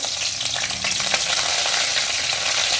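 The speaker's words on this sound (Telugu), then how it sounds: "ఇప్పుడు మనకు నూనె వేడైంది. వేడి కాగానే ఒక ఉల్లిగడ్డ 2 ముక్కలు కరివేపాకు," Onion and curry leaves frying in hot oil: a loud, continuous crackling sizzle with a few faint stirring scrapes, close by and with no voices.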